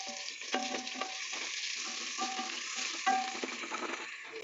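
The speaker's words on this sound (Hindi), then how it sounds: "अब हम इसमें अपना अदरक लहसुन का पेस्ट डालेंगे।" Ginger garlic paste frying in oil with softened onions for a turnip dish, a steady close sizzle with occasional stirring scrapes and clinks, no talking.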